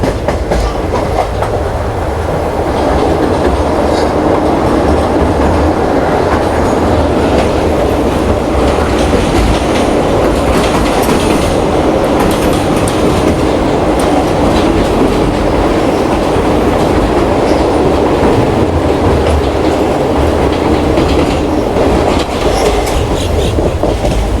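Loud, continuous rumble of the Yelagiri Express passenger train between Jolarpettai and Chennai Central, with rhythmic clickety-clack of wheels on rail joints throughout.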